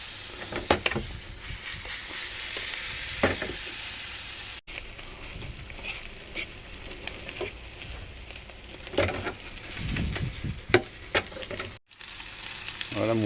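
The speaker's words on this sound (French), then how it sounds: "On balance notre poulet avec notre marinade." Marinated chicken sizzling and frying in a hot pan in a camper van, a steady crackling spatter with occasional stirring scrapes and bursts, close and fairly loud with no talking.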